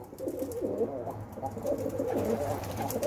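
Pet pigeons coo in soft, repeated rolling calls that overlap one another at close range, with a steady low background underneath.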